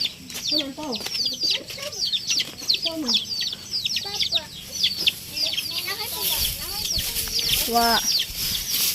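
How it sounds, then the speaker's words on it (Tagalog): Several chickens cluck and murmur softly together as they go to roost at sunset, with occasional louder squawks, close by, a faint background hum underneath. "yung mga manok ay nagsiakyatan ng kanilang mga tulugan"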